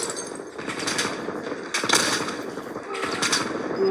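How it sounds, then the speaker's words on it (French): Rapid automatic gunfire in a Call of Duty battle royale match, several dense bursts of shots close and loud, with brief pauses between volleys. "J'essuie des tirs."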